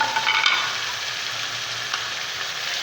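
A biryani marinade is stirred after garam masala and lemon slices go in, a steady wet sizzling hiss with soft scraping, fairly loud and close, with no talking.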